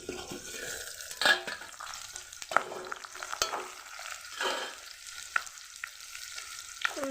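Teasel gourd coated in gram flour frying in a pan, with a soft, close sizzle broken by repeated scraping and clinking strokes of a spatula as the pieces are turned, heard alone.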